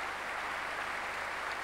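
A concert audience in Symphony Hall Birmingham applauds after a Mahler symphony performance, a broad, even wash of many hands that is steady, full and uninterrupted.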